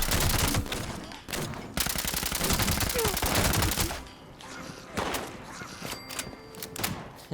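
Gunfire in the Fallout 76 video game: loud, dense bursts of rapid automatic fire, broken by short pauses, then scattered single shots, all close and forceful.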